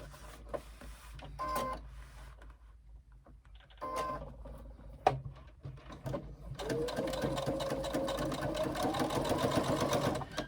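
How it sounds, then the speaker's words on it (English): A sewing machine stitches a 3/8 inch seam across the bottom of a backpack piece, starting after a few quiet clicks and handling noises and then running in a steady, fast, close mechanical patter for several seconds. "3/8 inch seam across the bottom of that piece and sewing on the unit we did before"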